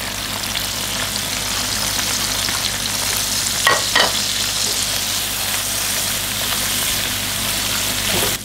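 Chili seasoning stir-fries in a pan with broth powder and ground pepper, a steady close sizzle throughout, broken by a couple of quick spatula scrapes partway through.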